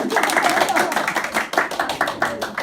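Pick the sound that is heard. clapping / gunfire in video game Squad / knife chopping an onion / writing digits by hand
clapping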